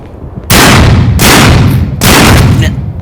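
Heavy bursts of gunfire in a video game shooter, three long loud volleys crackling close by with faint Thai voices underneath.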